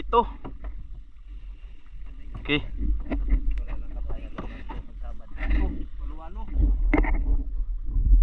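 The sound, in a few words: motorboat engine running at sea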